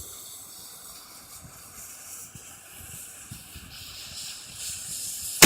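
Burning fuse on a Coehorn mortar loaded with 280 grains of powder, a steady faint hiss that swells slightly toward the end, heard outdoors with no talking.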